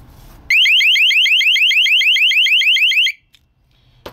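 An STI 6300/6400 fire door alarm sounds after its circuit is broken: a loud, rapidly warbling electronic tone runs continuously for about two and a half seconds, then cuts off abruptly, followed by a faint click.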